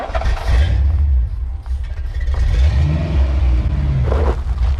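A Foxbody Mustang GT, revived after sitting for 19 years, revs hard during burnouts, its loud rumbling engine surging and falling in close, sustained bursts with some clatter.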